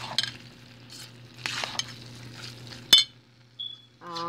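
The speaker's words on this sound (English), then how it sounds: "So you just keep stirring that around till it's fully incorporated." Rice stuffing is stirred in a pan with a spoon, giving quiet scraping strokes and light sizzle close by, a sharp clink of utensil on the pan near the end.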